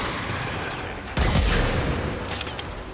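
An explosion in a gun-building video game: steady rumbling action noise, then a sudden loud blast with a deep low boom that lingers and slowly fades, no talking.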